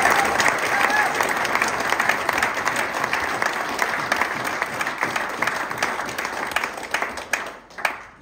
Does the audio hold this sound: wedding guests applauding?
yes